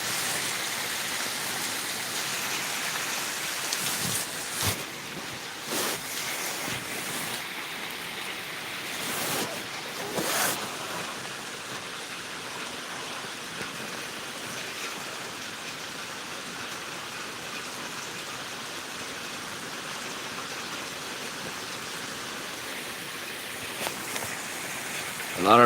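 Heavy rain pours steadily and close by, a dense constant hiss with a few louder bursts of spatter or wind now and then; no voices.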